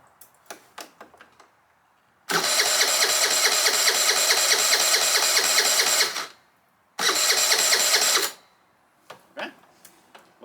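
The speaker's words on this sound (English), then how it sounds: "I'm gonna press the starter and just see what happens." The starter of an abandoned moped with no fuel in it cranks the engine without firing, one long whirring burst of nearly four seconds and then a shorter second burst, loud and close, with small clicks before and after.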